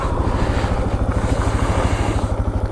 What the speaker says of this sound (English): But here's both brakes in a turn.